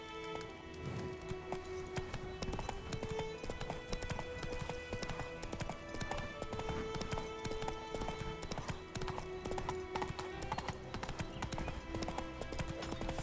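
A horse gallops in the video game The Witcher 3: rapid, steady hoofbeats clatter without a break under a constant bed of game music.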